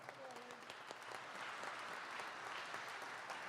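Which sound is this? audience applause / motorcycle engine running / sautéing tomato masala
audience applause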